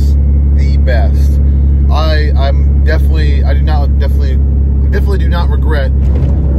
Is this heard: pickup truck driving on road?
yes